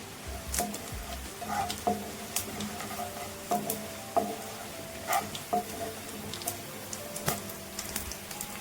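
Cumin, mustard seeds, raw chana dal and roasted chana dal crackle and pop in hot oil, scattered sharp spits over a soft steady sizzle, close by with no voices.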